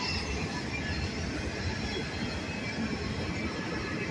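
A freight train with auto rack cars rolls past nearby in a steady, loud, continuous rumble of wheels and cars with faint squealing, no talk.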